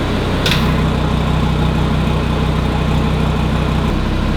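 A car engine idles with exhaust valves open, a deep, steady rumble, slightly fuller in the low end, running evenly with a brief click near the start.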